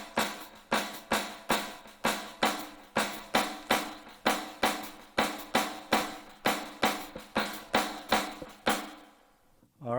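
A steady run of sharp drum strokes in a clave accent pattern, about two per second, evenly spaced with quieter ghost notes between the accents, played alone and close, ending abruptly.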